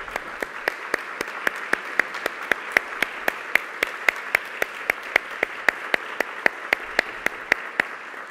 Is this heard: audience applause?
yes